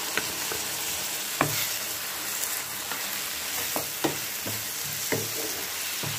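Onions and tomato frying in a pan for a soya chunks pepper fry make a continuous sizzle, broken by repeated utensil scrapes and taps as the mixture is stirred.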